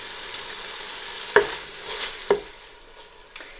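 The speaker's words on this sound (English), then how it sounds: "it's just been frying probably for about a minute or so" Steady frying sizzle of spice masala in a pan with a few sharp clinks of a utensil scraping and stirring, close and fairly quiet.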